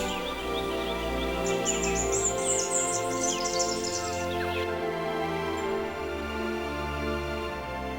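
Birds singing, a bright run of quick chirps and trills over a sustained tonal music bed, the twittering fading out midway while the music carries on.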